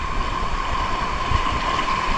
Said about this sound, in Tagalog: malalaki ang alon